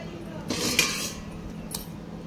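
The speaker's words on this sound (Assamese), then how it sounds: "এয়া ঢাকনি লগাই থৈ দিলোঁ।" A metal lid clinks onto a cooking pot of simmering Assamese tangy fish curry, a brief bright clatter followed by a lighter tap, over a low steady hum.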